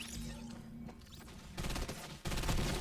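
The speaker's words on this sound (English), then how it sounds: "you can see that gunfire right there." Bursts of rapid automatic gunfire in a Fortnite match played on a 2018 iPad Pro, loud and dense, arriving in two close volleys after a quieter stretch with no talking.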